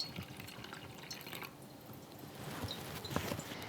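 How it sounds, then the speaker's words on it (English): Acrylic paint water poured through a coffee filter set in a colander, a soft steady trickle and dripping of liquid with faint splashes, close and fairly quiet throughout. "you put a coffee filter in your colander and you pour the mixture in"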